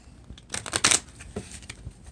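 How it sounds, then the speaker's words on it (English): A tarot deck is shuffled by hand in one quick riffling burst of papery flicks, close and clear, followed by a few softer card taps. "One more shuffle"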